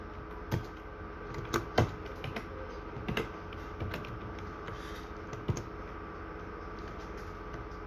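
Sparse keystrokes on a computer keyboard while entering text during a Python programming lesson, light clicks arriving in irregular bursts over a faint steady hum, close and fairly quiet, with no voices.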